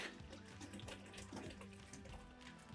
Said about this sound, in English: we're going to get some warm, not boiling water in jug, and we're simply going to fill this into the bubble tube